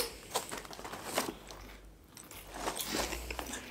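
Walkers MAX KFC Double Crunch Zinger flavoured crisps crunched between the teeth, loud close bites followed by chewing, with a brief pause in the middle before the crunching resumes.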